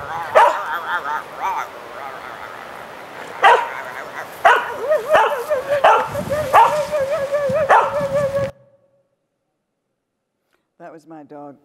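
A pet dog barks and yips in a series of sharp, close barks with whimpering tones over about eight seconds, then falls silent before a brief faint vocal sound at the end.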